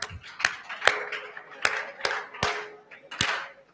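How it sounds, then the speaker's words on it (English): At a summit, scattered handclaps from a small audience come as about eight separate sharp claps spaced through the moment, fairly faint, with a little background murmur. "Let's give me our round of applause."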